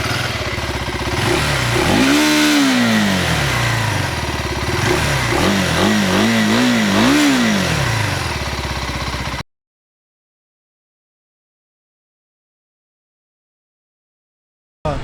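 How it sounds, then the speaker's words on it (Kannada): A KTM 390 Adventure X motorcycle runs nearby, its single-cylinder exhaust note rising and falling through one long rev and then several quick blips before cutting to silence. "ಗಾಡಿದು ಎಕ್ಸಾಸ್ಟ್ ನೋಟು ಯಾವ ಥರ ಕೇಳಿಸುತ್ತೆ ಅಂತ."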